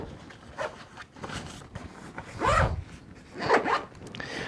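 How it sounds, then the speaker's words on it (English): A double zipper on a WindTook 15.6-inch travel laptop backpack being drawn back and forth, several quick rasping zip strokes close up, the longer pulls louder near the end. "Does a double zipper thing, zip it either way."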